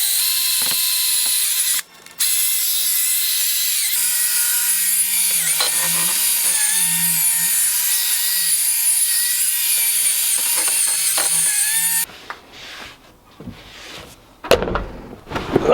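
Steady mechanical whirring of a power polishing tool working G3 polish into an inner brake part for a Ford Sapphire RS Cosworth, running loud and continuous for about twelve seconds with a brief pause, then stopping into clattering handling noises.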